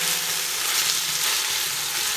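Tomatoes and masala for chicken pulao fry in a pan with a dense, steady hiss, close and even throughout, with no speech.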